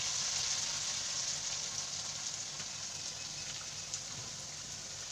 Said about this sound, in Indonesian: Ini makaroninya sedang digoreng,